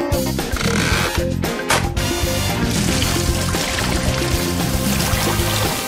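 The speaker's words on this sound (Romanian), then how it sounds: "Mai rămâne doar să umplu cu apă" Water pours steadily into a pool set up on a bunk bed, a loud continuous gushing splash with churning bubbling that runs throughout.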